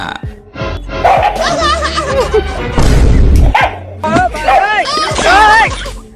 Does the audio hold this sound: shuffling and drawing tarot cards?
no